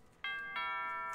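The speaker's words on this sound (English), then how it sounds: "Oh, doorbell." Doorbell in the video game Pokemon Shield: a two-note electronic ding-dong chime, clear and bright, the second tone ringing out and sustaining to the end.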